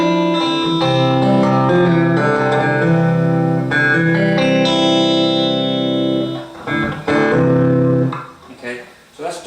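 An electric guitar with hot pickups and moderate overdrive through a small solid-state Four Force EM-1 amp rings out chords and single notes, sustaining loudly before trailing off into quieter picking.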